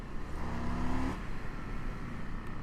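A Harley-Davidson FTR 1200 base model motorcycle engine revs up loud and close, the pitch climbing for about a second before cutting back to a rumbling idle.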